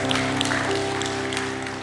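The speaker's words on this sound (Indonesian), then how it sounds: "Kasih tepuk tangan buat Tuhan" Congregation applauding God during a church sermon, a dense sustained clapping from a large crowd with a steady musical drone underneath, loud and even across the moment.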